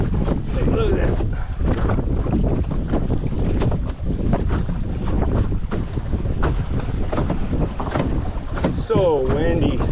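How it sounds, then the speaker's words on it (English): Strong wind roars constantly around a canoe out on Pickerel Lake, buffeting the microphone with heavy, steady gusts and water sloshing beneath, while a voice speaks briefly near the end. "So windy."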